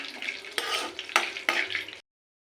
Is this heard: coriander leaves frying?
yes